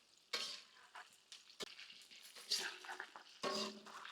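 Chicken pieces fry with dried red chillies in a pan for restaurant-style honey pepper chicken, a close sizzle broken by several scrapes and stirs of a spatula.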